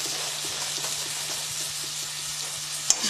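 Thyme and pimento frying in a pot, a steady close sizzle and hiss with faint stirring scrapes underneath and one brief knock near the end, no voices.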